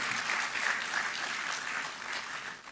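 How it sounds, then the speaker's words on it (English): A conference opening ceremony for ASEAN protected areas erupts in sustained audience applause, an even wash of many hands clapping that fades slightly at the end. "A round of applause, please, for everyone."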